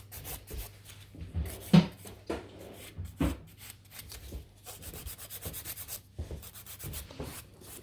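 A coarse nail file, 100 to 180 grit, rubs gel nail extensions off a client's nails in quick, close scraping strokes, irregular in rhythm and fairly quiet, with no voices.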